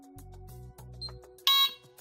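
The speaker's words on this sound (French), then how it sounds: "Un bip, votre alarme est en marche." A single short, bright electronic beep from a Delta Dore Tyxal+ alarm as it arms, fairly loud against a quiet room with faint background hum.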